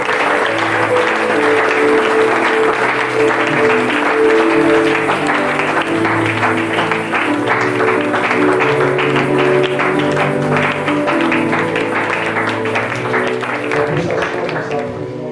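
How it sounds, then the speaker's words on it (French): A church congregation applauds loudly and continuously, with voices and sustained musical tones layered through the clapping. "Acclame pour cela."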